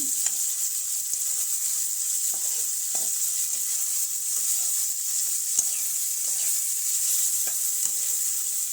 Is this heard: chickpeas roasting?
yes